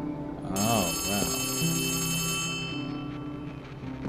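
A telephone rings inside the horror video game Poppy Playtime Chapter 3, a bright sustained electronic ring that holds for about two seconds then fades, with a voice talking over the start and game ambience beneath.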